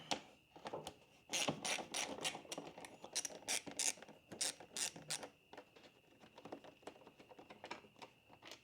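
Rapid clicking of a socket ratchet backing out 8 mm bolts from an adventure motorcycle's crash bars, close and fairly loud, in quick bursts with short pauses between turns.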